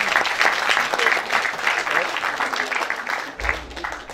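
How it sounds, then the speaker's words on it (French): Applause for a performer named Baudelaire at a conference debate, a brief burst of clapping from a small audience that fades out after about three seconds, heard close. "Nous avons un petit applaudissement pour Baudelaire là,"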